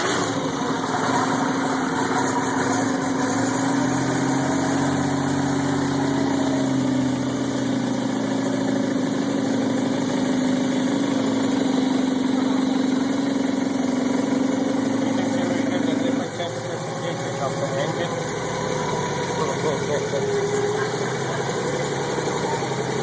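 A large turbocharged engine idles steadily after being fired up, a continuous loud mechanical drone with a strong low hum that drops slightly partway through and holds without talk.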